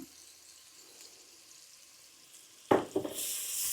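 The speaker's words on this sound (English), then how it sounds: "And I'm just going to let these onions cook for about 2 minutes." Finely diced onion hits a hot pot for a fish chowder and starts sizzling loudly after a quiet stretch, with a crackling burst settling into a steady hiss.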